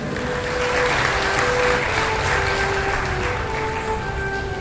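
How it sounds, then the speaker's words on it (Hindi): A devotional crowd at a Guru Purnima celebration claps steadily for a newly named president, a dense, loud and continuous wash of applause that fills the whole stretch, with faint voices under it. "सभी ताली बजा करके।"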